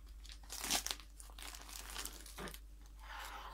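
A plastic bag holding wool-acrylic yarn being unpacked, with loud close crinkling and rustling that comes in bursts and then settles into softer handling.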